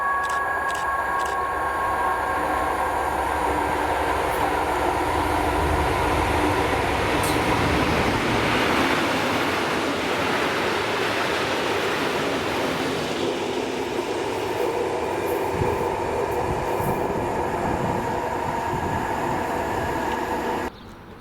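A Colas Rail freight train hauled by locomotive 7813 passes at Monifeith, a loud sustained rumble of wagons with rhythmic wheel clatter and a steady engine drone, rising toward the middle and holding close throughout.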